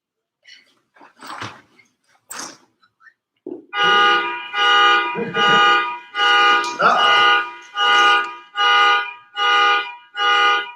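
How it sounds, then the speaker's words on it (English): A car alarm blares in a steady run of loud, evenly spaced honking bursts, preceded by a few faint scattered sounds, with no talk over it. "Someone's alarm."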